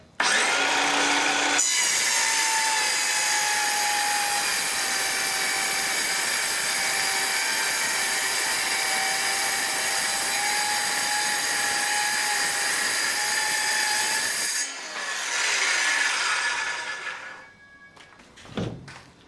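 A power saw cuts through a sheet of perspex acrylic, giving a loud, steady, high whine that runs unbroken for about thirteen seconds. The motor then drops in pitch and spins down.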